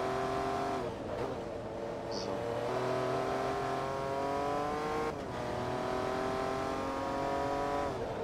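Jaguar XJ220 race car in Forza Motorsport 2, its engine droning loud and steady throughout with rising and falling revs across gear changes, alone with no talk.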